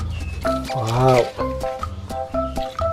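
A tiger gives one short, rising and falling roar, heard together with busy background music and voices.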